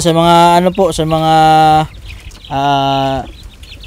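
Chickens raised for sale call loudly and close up in a series of drawn-out, tonal squawks, with a short pause before a final call and a brief spoken syllable in between.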